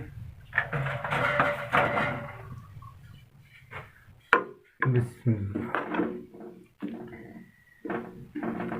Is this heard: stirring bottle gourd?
yes